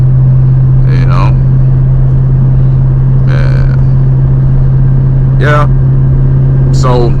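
A 500 hp 2003 Ford Mustang Cobra drives along with a loud, steady engine drone, and several short rising revs punctuate it. A person speaks briefly.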